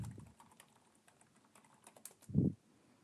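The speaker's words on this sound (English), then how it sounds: "Now we type the command" Command being typed on a computer keyboard during a cybersecurity exercise: a quick, soft run of keystrokes followed by a heavier thump, like the Enter key, all fairly faint and close.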